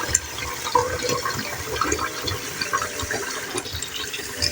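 Water pours steadily into a cooking pot for one-pot rice, four cups measured against one cup of rice, a continuous close splashing fill with no talk.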